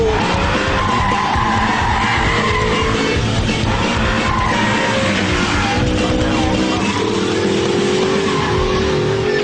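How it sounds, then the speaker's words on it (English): An Audi R8 with stability control switched off slides on a test course, its engine roaring loudly and tires squealing continuously throughout, up close with no talk. "ESP switched off, engage gear. Let's see what this can do. Lift, power, bit of a slide"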